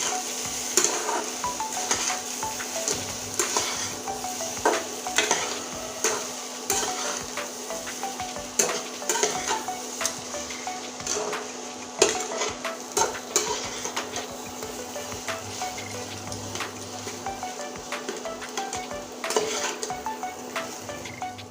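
A spoon stirs spiced potato filling in a frying pan, scraping and clinking steadily against the metal in a repeated rhythm over a soft background sizzle.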